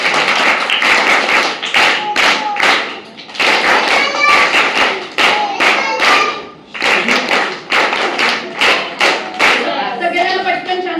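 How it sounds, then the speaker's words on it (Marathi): A group of children claps loudly in rhythmic, patterned bursts separated by brief pauses, with voices chanting or calling along between and over the claps. "आपण एकदा बालरंजनच्या जोरात टाळ्या वाजवूया त्यांच्या"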